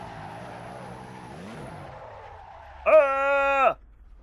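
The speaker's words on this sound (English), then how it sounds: "I crashed the car." A car in the Assetto Corsa racing sim skids, letting out one sharp, loud tire squeal that lasts under a second over a low, steady engine drone.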